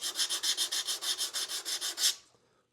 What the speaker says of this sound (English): I sand off a 45 first.